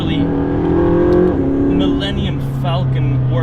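A McLaren 675LT sports car engine holds a loud, steady drone that climbs in pitch and then shifts as it keeps pulling hard, with a person speaking over it.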